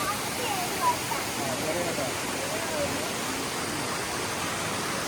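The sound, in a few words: thin waterfall below Diamond Bridge, Georgia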